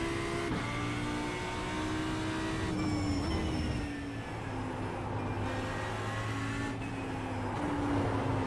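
Race car engine in a racing video game, droning steadily at high revs with several abrupt pitch drops and jumps as it shifts gears; loud and close, with no talking.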